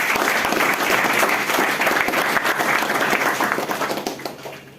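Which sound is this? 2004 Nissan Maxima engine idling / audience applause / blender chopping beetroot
audience applause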